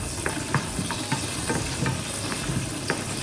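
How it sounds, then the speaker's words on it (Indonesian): Garlic and bird's eye chili fry in a pan with a steady, close sizzle. Faint taps from stirring break through now and then, and no one speaks. "aku sekarang cuma goreng bawang putih sama cabai rawit"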